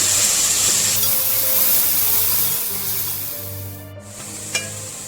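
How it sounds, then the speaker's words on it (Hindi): Onions sizzle loudly in hot oil, a close, steady bright hiss that eases slightly partway through, with a brief clink near the end. "इस ऑयल में ये मैं प्याज फ्राई डाल दूंगी। इस प्याज को थोड़ा सा फ्राई करेंगे।"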